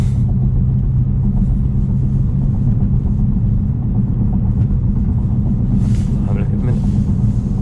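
An 800BHP Stage 2 BMW F90 M5 runs flat out at top speed, a loud, steady, heavy rumble of engine and road noise filling the whole clip with no letup.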